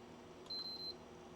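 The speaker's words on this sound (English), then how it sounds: "it just did the triple beep" Vintage game console under repair gives a single steady electronic beep tone, clear over a low background hum in a quiet room.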